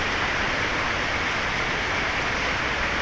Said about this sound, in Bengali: প্রবল বৃষ্টি হচ্ছে।